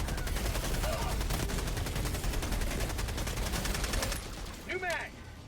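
In the Helldivers video game, sustained rapid automatic gunfire rattles loudly and continuously at a building, then cuts off near the end, leaving a brief voice-like sound.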